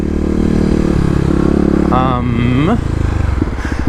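A 2018 Kawasaki KLX250 dirt bike rides along in first gear off-road, its engine note steady and loud throughout, rising and falling slightly, with a voice speaking over it near the middle.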